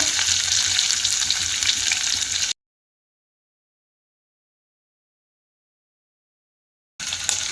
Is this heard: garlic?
yes